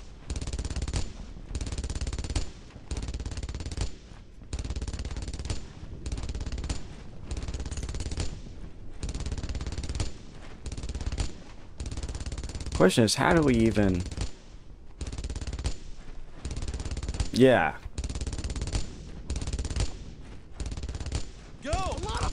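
Repeated machine-gun bursts from the World War II shooter Brothers in Arms: Earned in Blood, fairly quiet rattling volleys recurring steadily throughout, with short talk and a couple of whistling effects mixed in.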